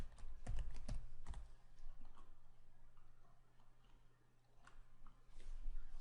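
Computer keyboard typing while working in a spreadsheet, a few sharp close clicks early on, then sparse faint taps over a low steady hum.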